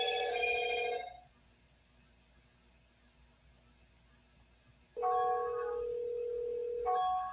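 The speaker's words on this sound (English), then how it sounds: "So let's give Don a call" Ringback tone of an outgoing telephone call, a steady electronic ring lasting about a second, a four-second silence, then a second longer ring, clear and moderately loud.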